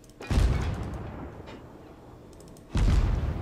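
Naval gun salvos in World of Warships, two heavy booming blasts about two and a half seconds apart, each followed by a low rumbling decay.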